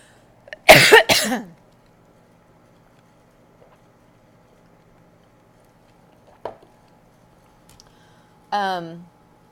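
A sharp burst of coughing close up, followed by long quiet stretches and a brief voiced sound near the end.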